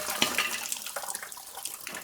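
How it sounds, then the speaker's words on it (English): Engine coolant pouring from a BMW's disconnected lower radiator hose, a steady trickling splash of liquid running for a couple of seconds at close range. "dumping the coolant on this job sucks"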